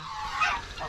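A single short goose honk, fairly faint, with no other sounds around it.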